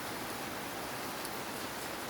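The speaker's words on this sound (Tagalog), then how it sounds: "Umuulan pala malakas," Heavy rain falls in Baguio, a dense, steady hiss of downpour with no pauses, filling the short stretch evenly and with no one speaking.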